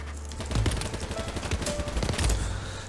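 M4A1 rifle firing in BattleBit Remastered, near-continuous rapid automatic fire in quick repeated bursts lasting nearly three seconds, loud and close with a booming low end.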